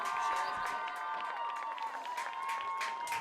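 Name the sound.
stadium crowd applauding homecoming candidates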